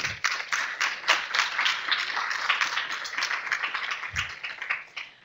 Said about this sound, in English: you need to applaud each other for all that you do